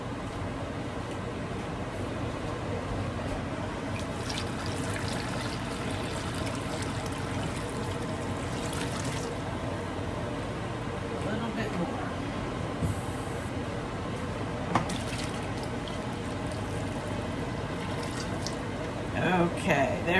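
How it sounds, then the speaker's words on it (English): Water pours in a steady, continuous rush into a large canning pot over packed jars of tomatoes, onions and jalapeños, filling it until the jar tops are covered; the flow stays even and fairly loud for about twenty seconds. "I'm going to need to add more water until the tops of the jars are covered"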